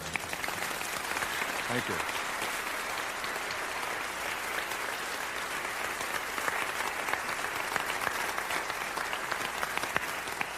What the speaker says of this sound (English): you should applaud because she deserves that